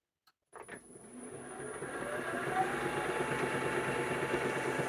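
The spindle of an Ajax universal milling machine starts up and runs at low speed, settling into a steady, moderately loud motor hum with a faint whine and no voices.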